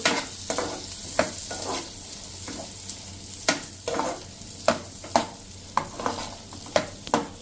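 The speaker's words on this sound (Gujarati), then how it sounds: "એમાં આપણે આ 2 કાંદા સમાર્યા છે એને નાખી દઈએ અને એને ટ્રાન્સપરન્ટ થાય ત્યાં સુધી આપણે કૂક કરીએ" Chopped onions sizzle and fry steadily in hot oil and butter in a pan, with repeated loud stirring scrapes at a regular pace, close up and without talk.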